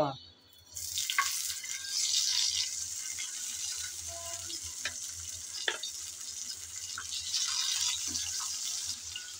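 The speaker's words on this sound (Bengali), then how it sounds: "গরম তেলে আমি একটা একটা লইটা মাছ দিয়ে দেব" Loitta (Bombay duck) fish fry in hot oil, a loud, steady crackling sizzle with a few brief clinks and bubbling pops throughout.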